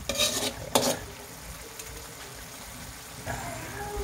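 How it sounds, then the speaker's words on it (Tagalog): String beans tossed into a pan of Bicol Express with shrimp paste, a steady close sizzle of frying under brief scraping and stirring clatter of a utensil against the pan, with a voice briefly heard. "Lagyan na natin yung yung sitaw natin."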